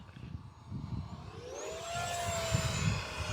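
A radio-controlled 50mm BAE Hawk model jet whooshes past, its ducted-fan whine rising into a high sweeping tone over wind buffeting as it flies by.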